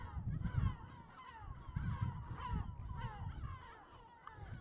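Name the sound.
flock of seabirds calling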